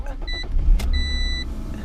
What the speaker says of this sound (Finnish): no nyt se lähti ihan ok käyntiin